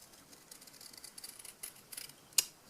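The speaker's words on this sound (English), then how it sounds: "again with my scissors, just cut" Scissors snip through a paper label, a run of small quiet cuts with one sharper snip near the end, heard close up.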